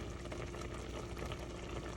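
A cracker mixture for mock apple pie boils in a pot, a soft continuous bubbling and simmer, faint and steady with no talking.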